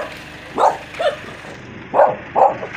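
A dog barks several times at a moderate distance, two quick pairs of short barks separated by a pause, over a low background hum.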